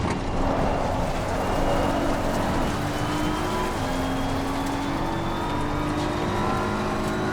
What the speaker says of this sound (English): The Ferrari behind gets around.